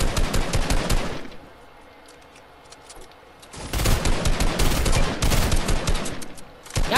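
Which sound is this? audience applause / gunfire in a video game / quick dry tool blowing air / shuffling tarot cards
gunfire in a video game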